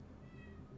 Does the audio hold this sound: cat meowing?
yes